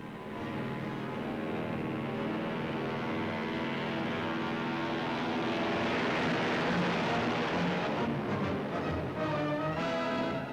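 Boeing B-29 bomber engines in flight during a 1945 long-range flight from Japan, a loud, steady, droning propeller roar that holds constant and swells slightly toward the end.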